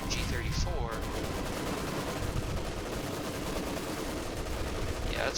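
Automatic gunfire from an MG34 machine gun in the WWII strategy game Company of Heroes 2, a dense continuous battle din of rapid shots and explosions filling the whole stretch at steady loudness.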